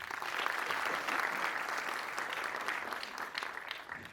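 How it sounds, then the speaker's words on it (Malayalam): A Malayalam film trailer launch event, with an audience breaking into a sustained burst of clapping. The applause stays dense and steady for a few seconds and carries no speech. "നിങ്ങൾ വലിയൊരു കയ്യടി കൊടുക്കണം"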